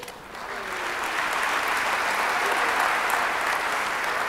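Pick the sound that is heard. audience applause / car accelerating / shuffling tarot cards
audience applause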